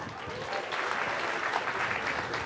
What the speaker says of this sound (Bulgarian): Тук сега ще ви се изметнат китките от пляскане.